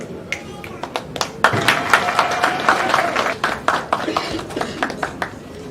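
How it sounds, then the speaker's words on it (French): Applause from an audience at a political party meeting in Congo, marking a new member joining the AFDC party; scattered, uneven clapping that swells and fades, with some background voices. "Des applaudissements."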